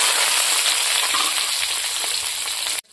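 Onion, bay leaf and green chilli hit hot oil in a wok, giving a loud, steady sizzle that fills nearly three seconds before cutting off abruptly.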